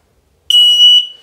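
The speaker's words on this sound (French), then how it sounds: "Donc le détecteur de fumée se met à sonner." A workshop smoke detector, set off by burning paper and linked to a base station, beeps in a single loud, shrill, piercing tone. The tone starts abruptly after silence, holds for about half a second and then decays.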